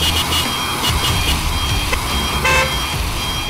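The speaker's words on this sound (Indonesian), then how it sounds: "Ada dua macam klaksonnya nih." A Mitsubishi L300 pickup truck in Euro Truck Simulator 2 sounds its horn in short loud toots over a steady rumbling engine and road noise, set during a climb on roads in Sulawesi.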